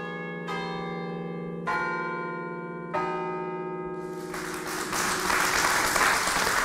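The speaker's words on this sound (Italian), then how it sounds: "Bisogna legare le campane con le catene e poi suona solo il batacchio, la campana sta ferma e il batacchio suona." Church bells with the bells chained still so only the clappers strike: three loud, separate ringing strokes with long sustained tones, then a burst of applause and crowd noise.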